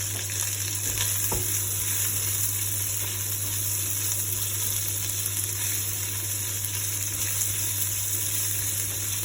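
Ingredients for sinigang sizzle and fry steadily in a pan, a continuous close hiss with a brief clatter near the start.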